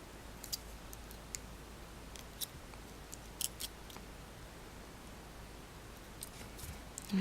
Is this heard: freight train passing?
no